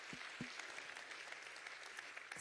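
Applause from an audience at a Las Vegas Super Bowl event where the NFL commissioner is speaking, a faint, steady patter of many hands lasting a couple of seconds with no voices over it.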